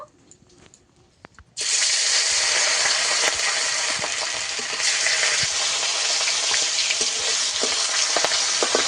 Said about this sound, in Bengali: দিয়ে দেব এক একে মাছগুলোকে ভেজে নেব